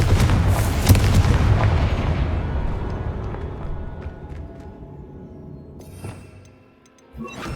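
A Confringo blasting spell in Hogwarts Legacy bursts with a loud, deep boom that rumbles and slowly fades over several seconds, followed by a smaller crackling blast near the end.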